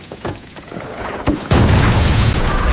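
A muffled boom thuds out, then a second heavier blast rolls into sustained rumbling noise, like distant explosions with scattered gunfire.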